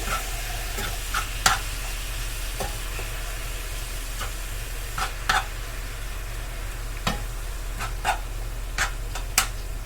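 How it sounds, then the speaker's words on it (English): Ground meat browning in a pan while a utensil stirs and breaks it up, steady sizzle under repeated sharp scraping strokes spaced every second or so, close and clear with no voices. "While the meat is browning up, I just want to give that a stir"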